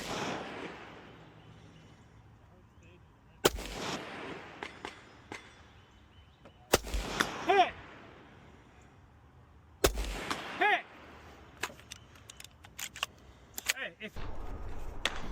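Rifle and pistol gunshots crack at a 2-gun shooting match stage at an outdoor range, with a few loud, widely spaced reports followed by quicker clusters of shots. A voice talks between them.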